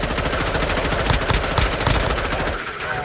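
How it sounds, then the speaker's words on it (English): Sustained automatic gunfire crackles from a distance in the video game DMZ, rapid bursts running continuously with a few louder shots standing out, no talk over it. "Oh, shooting from a distance."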